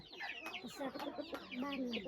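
Chickens cluck repeatedly near a rural home, the clucks overlapping in a busy, close cluster with faint background voices.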